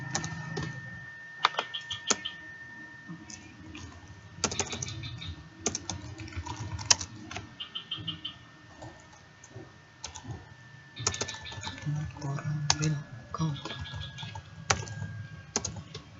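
Typing on a computer keyboard during website data entry, with irregular bursts of quick key taps and sharper clicks close up, separated by short pauses, over a faint steady background tone; no one speaks.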